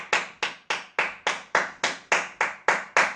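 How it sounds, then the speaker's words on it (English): Eleven to twelve sharp hand claps in a steady, even rhythm, spaced about a quarter second apart, counting out a maths exercise; close and clear with no talking. "Make sure you do the clapping properly."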